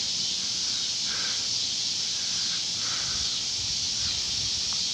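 Wind during a severe storm in Oklahoma produces a steady, unbroken hissing rush with a low rumble underneath, holding constant throughout.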